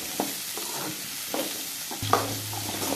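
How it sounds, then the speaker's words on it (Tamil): Garlic and onions sauteing in a pan for Chettinad chicken curry, with a low steady sizzle broken by a few light spoon stirs and scrapes, close and fairly quiet. "பூண்டு வெங்காயம் நல்லா வதங்கணும்."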